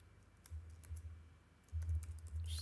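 Computer keyboard keys typed in an IntelliJ code editor, quiet close clicking in two short bursts with a pause between, no voices.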